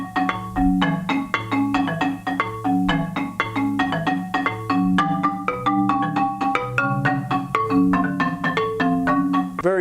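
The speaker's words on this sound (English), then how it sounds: "the dead strokes to mimic the short, long type of sound that you may hear an electric bass player playing on a samba bass line" Marimba played with short, muted dead strokes in a bouncy samba electric-bass style line, a steady stream of clipped wooden notes mixed with longer ringing ones, close and alone.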